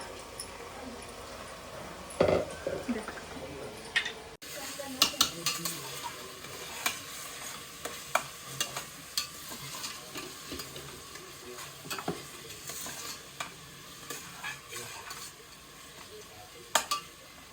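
Chicken pulao ingredients roast in oil in a pot, with soft sizzling under repeated scrapes and knocks of a spoon stirring against the metal, after a quieter opening moment.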